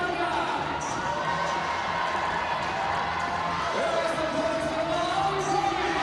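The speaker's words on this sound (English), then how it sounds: "Listen to the crowd." A netball crowd roars steadily throughout a world cup match between Jamaica and Malawi, a dense, continuous wall of cheering and shouting in a large arena.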